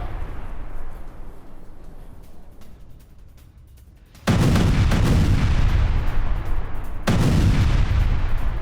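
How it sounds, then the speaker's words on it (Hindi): Demolition blast as IDF combat engineers blow up a Hamas tunnel in Gaza: a sudden loud, sustained booming roar of rumble and debris after quieter ambient noise, followed by a second heavy surge a few seconds later. "आईडीएफ के कॉम्बैट इंजीनियर्स ने उड़ाई हमास की सुरंग"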